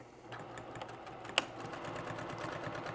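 A sewing machine stitches rainbow quilt strips at a quarter-inch seam, a fast, even mechanical patter that stays close and steady, broken once by a sharp click.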